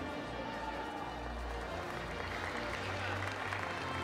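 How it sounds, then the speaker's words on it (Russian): An audience applauds steadily throughout at a children's sambo award ceremony in a hall, a continuous wash of clapping with a voice heard faintly alongside it. "Ваши аплодисменты"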